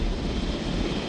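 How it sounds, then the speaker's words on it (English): Steady broadband engine drone of an approaching helicopter in the park-building game Jurassic World Evolution, a continuous close rumble without distinct blade beats and with no talk over it. "So now that the helicopter's en route"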